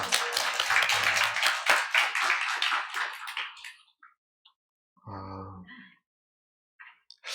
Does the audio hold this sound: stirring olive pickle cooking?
no